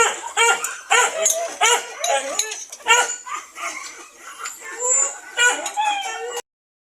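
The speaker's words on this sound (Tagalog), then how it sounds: "Alaga nating manok." Pet chickens on a small home farm cluck and crow in loud, dense bursts close by, mixed with a dog's barks, one call after another with hardly a pause.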